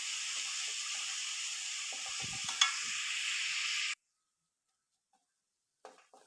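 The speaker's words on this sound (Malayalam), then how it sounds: "എന്നിട്ട് ഇതിൻ്റെ ഒരു പച്ചമണം മാറുന്നത് വരെ ഒന്ന് ഇളക്കി കൊടുക്കാം." Ginger and garlic fry in a pan with a steady sizzle as they are stirred. The sound cuts off abruptly partway through, leaving near silence and a few faint clinks near the end.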